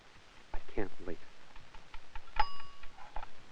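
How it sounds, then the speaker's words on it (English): A bright bell ding from an oven timer as bread finishes baking, one clear ring with a lingering tone, preceded and surrounded by a voice talking. "There's the bell. I guess our 40 minutes are up."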